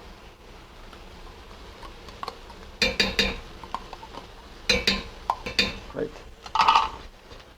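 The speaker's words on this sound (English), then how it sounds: "Mix well." Tomato paste is stirred into a pot of classic French prawn bisque, with a spoon scraping and clinking against the metal in short irregular bursts, close by, and a brief spoken word.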